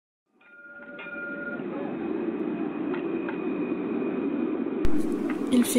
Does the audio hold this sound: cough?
no